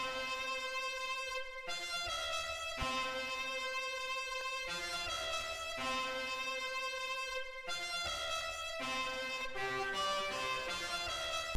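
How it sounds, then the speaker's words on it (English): A distorted flute plays in a hyperpop song, a buzzy, harmonically rich melodic line that runs steadily and fairly loud through dense, continuous backing music with brief dropouts. "So I added this distorted flute."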